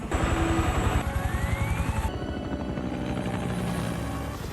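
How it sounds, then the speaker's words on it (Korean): Helicopter flying through a storm in the TV series Lost, a loud rapid rotor chop pulsing steadily under roaring wind and rain, with a rising whine partway through and dense layered noise throughout. "상공에서 폭풍을 만난 헬기."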